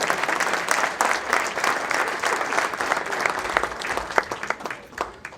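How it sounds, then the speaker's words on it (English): A gala dinner audience claps in a continuous, lively round of applause, with a few sharper individual claps standing out. "Give him a round of applause"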